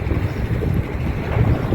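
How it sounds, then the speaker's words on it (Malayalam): Strong wind blows outdoors during cooking, a steady, loud, rumbling buffet against the microphone that fills the whole stretch with no voices. "നല്ല കാറ്റ് ശല്യം ഉണ്ട്."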